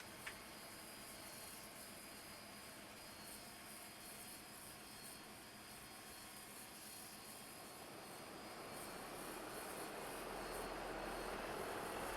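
Steady droning turboprop engine noise from a Dash 8 Q400 airliner in the Prepar3D flight simulator, heard close up as a continuous roar that grows louder and fuller toward the end.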